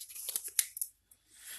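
Sandpaper rubbed along a wooden axe handle being carved down for spoon carving, giving several short, close scratchy rasps with brief gaps and a quieter patch of scraping near the end.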